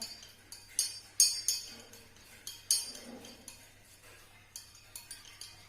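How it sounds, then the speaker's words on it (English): A spoon stirs honey into water in a transparent glass, giving a series of light, irregular clinks and taps against the glass with soft swishing between them, close and fairly quiet. "And now I'll mix honey and water."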